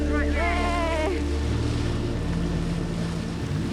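Small boat churning across choppy water in strong wind, a steady loud rush of engine, waves and wind filling the whole stretch, with a voice speaking briefly near the start.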